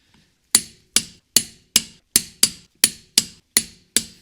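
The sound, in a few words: Precise Built torque wrench clicking at 90 foot-pounds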